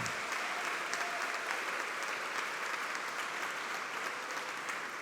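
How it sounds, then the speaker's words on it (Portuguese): Steady applause from an audience at a formal medal ceremony, an even, continuous wash of clapping held at moderate distance throughout. "eu peço uma salva de palmas ao gabinete do deputado estadual Alan Lopes"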